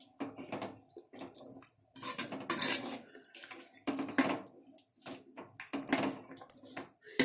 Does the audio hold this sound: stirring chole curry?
yes